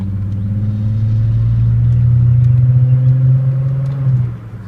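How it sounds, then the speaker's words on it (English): A manual-transmission car engine revs steadily as the car pulls away in first gear, a loud close rumble that holds for about four seconds and then drops off sharply near the end. "put my foot down the clutch, first gear, and I drive"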